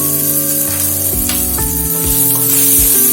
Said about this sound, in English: When it is a bit hot, then we will add ginger and garlic finely chopped into it.